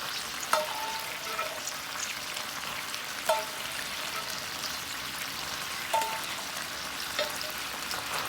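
Cooked shrimp pasta tumbling back into a simmering tomato cream sauce in a pan, giving a steady close sizzle and bubbling with a few soft splashy clinks at intervals.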